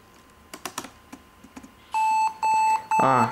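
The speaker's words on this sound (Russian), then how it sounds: "Компьютер звучит" A computer emits three loud, sustained electronic beeps while rebooting into its BIOS, each about half a second long. They follow a few soft clicks and key taps, and a higher warbling tone trails the last beep.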